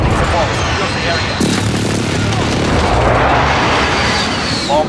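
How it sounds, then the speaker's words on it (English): Precision airstrike explosions in the Call of Duty Modern Warfare multiplayer map Grazna, a loud dense rumble of blasts and gunfire running continuously, with a sharp burst partway through and game voices over the din. "Enemy precision airstrike, get down!"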